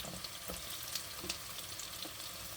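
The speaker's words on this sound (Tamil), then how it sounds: "பூண்டையும் கொஞ்சம் இதோட சேர்த்து வதக்கணும்." Garlic and onions fry together in a pan while cooking a shrimp curry, a steady close sizzle with a few soft stirring scrapes and no talking.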